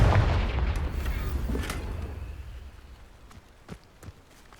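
A Confringo fire spell blast in Hogwarts Legacy, a loud booming explosion at the start that rumbles and decays over several seconds, followed by faint scattered crackles and footsteps.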